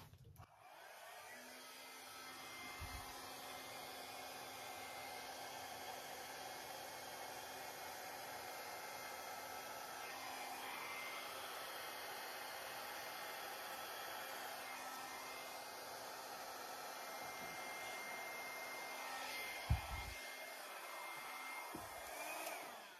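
A hair dryer blows steadily across wet acrylic pour paint for over twenty seconds, a continuous loud whooshing airflow with slight shifts in pitch and a few brief knocks near the end.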